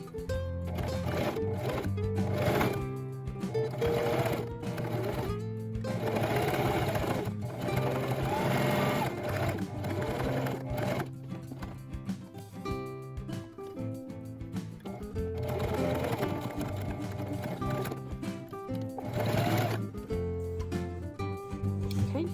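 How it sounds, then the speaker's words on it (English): A sewing machine runs a straight stitch with zero width on small doll mittens, a steady mechanical whirr that starts and stops in bursts with no one talking. "I'm just using my straight stitch in between 2 and 1 and my width at 0."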